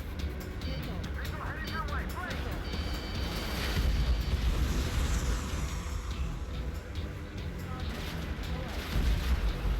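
Explosions and gunfire from anti-air SAM sites being destroyed in the Ace Combat 7 video game, a dense, continuous rumble of blasts and bursts with layered combat noise throughout.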